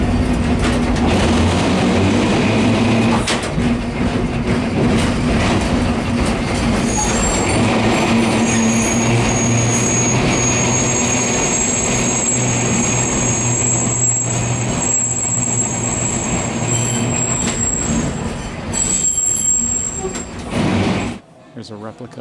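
Trolley car number 5326 running on museum tracks at a Pennsylvania trolley museum: a loud, continuous rumble and clatter of wheels and a motor hum, with high squeals from the rails and brief talk, fading away near the end.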